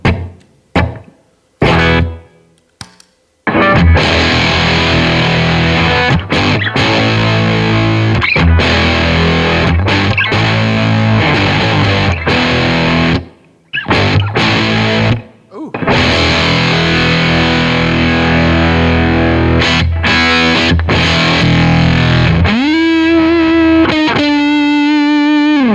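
Gibson Les Paul electric guitar through an Old Blood Noise Endeavors Haunt Fuzz pedal: a few clipped stabs, then sustained loud distorted fuzz riffing with brief gaps, ending on a wavering held note.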